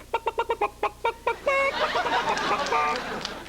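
A comedian mimics a chicken vocally, firing off quick staccato clucks in a steady rhythm before breaking into a longer, rising squawk and warbling cackle, loud and near.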